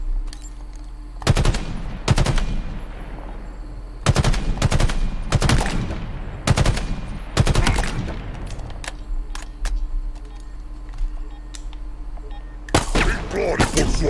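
Weapon fire in the video game Halo Infinite: loud, rapid bursts of automatic gunfire come in repeated volleys over a steady game background, with a voice talking at times.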